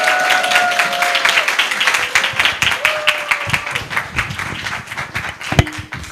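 Audience applause after a teachers' seminar lecture at a church, a dense steady patter of many hands clapping that gradually thins out toward the end.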